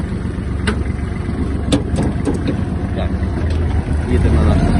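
Kubota GL-32 Japanese mini tractor with its engine running at a standstill after the gear is taken out, a steady low idle rumble with a few short clanks, close by.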